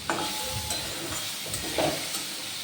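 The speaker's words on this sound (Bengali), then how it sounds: "ভাজা হয়ে গেছে দেখুন একদম সফট হয়ে গেছে" Vegetarian chow mein noodles are stir-fried in a hot pan, with a continuous close sizzle broken by scraping, tossing sounds of stirring and a few brief clinks.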